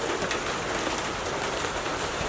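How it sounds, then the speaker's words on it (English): Steady rain falls outdoors in Florida, a soft continuous hiss with no talk. "it starts raining"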